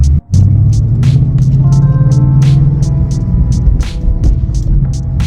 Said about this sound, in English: This car sounds so good, dude.